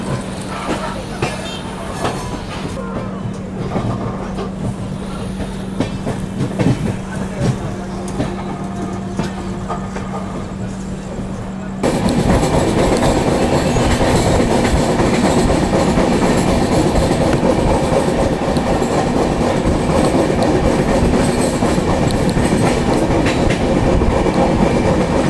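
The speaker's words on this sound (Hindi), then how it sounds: "और सामने खड़ी है Bilaspur to Ernakulam. Super fast express." Bilaspur to Ernakulam superfast express train heard from onboard at night, a steady low rumble and rattle that jumps louder halfway through as clattering wheels and carriage noise take over.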